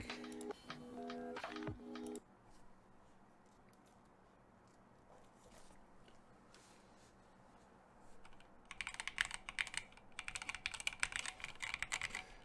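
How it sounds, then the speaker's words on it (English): Mechanical typing on a KBDFans Blade keyboard: a dense burst of close keystrokes, then a quiet stretch, then a second run of rapid clacking keys toward the end. "So I think I'm gonna do one typing test without the foam"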